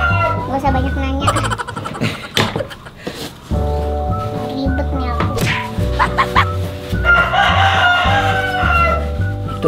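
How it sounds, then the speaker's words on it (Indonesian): Rooster crowing outdoors in late morning, its call rising over close conversation between people, with a few other animal sounds mixed in. "Ayamnya udah siang masih berkokok aja."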